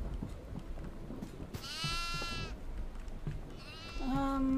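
Goats in the horror video game Devour bleat in two drawn-out, wavering cries, the second trailing into a steady tone, over rumbling game ambience.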